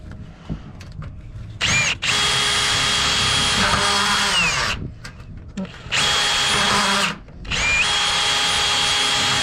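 A cordless power drill drives screws into a brush seal on a roll-up garage door, buzzing loudly and close in three long bursts separated by short pauses, with brief trigger whirs and faint handling noise at the start.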